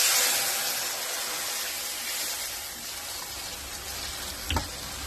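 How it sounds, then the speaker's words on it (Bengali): Black cumin seeds tempering in leftover oil from frying fish, a steady close sizzle and crackle throughout with a brief louder pop near the end. "তেলটা ছিল মাছ ভাজা, সেই তেলের মধ্যে কয়েকটা কালো জিরে ফোড়ন দিয়ে দিয়েছি।"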